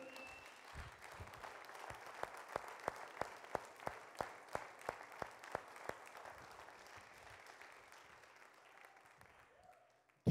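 A church congregation clapping in a steady, even rhythm to praise, the sharp beats clear and moderately loud over a hum of voices, the clapping continuing for about ten seconds.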